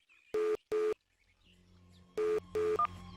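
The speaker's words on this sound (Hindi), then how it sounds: "अच्छा ठहरो, मैं तुम्हारे को अभी फोन कर रहा हूँ।" A telephone plays two short beeping tones, a pause, then two more, with a faint hum beneath as a call is placed.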